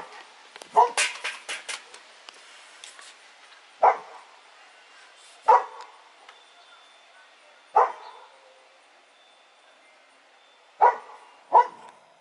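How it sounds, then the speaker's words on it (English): A dog barks in short sharp bursts, a quick cluster at first, then single barks spaced a few seconds apart, fairly close. "Who are you barking at, honey?"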